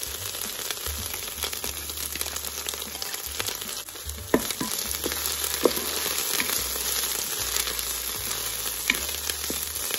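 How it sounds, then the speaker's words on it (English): Ginger garlic paste frying with onions in a Ninja Foodi for tangy, spicy eggplants, producing a continuous moderate sizzle with scattered pops and scraping clicks over a low hum. "Next, I'm adding 1 teaspoon of ginger garlic paste."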